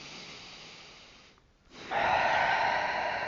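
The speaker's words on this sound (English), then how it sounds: "I'm breathing in through the nose and out through the mouth." Breathing during a standing cat-cow yoga movement, in through the nose and out through the mouth. A soft, close airflow fades into a brief pause, then a louder, sustained breathy exhale follows.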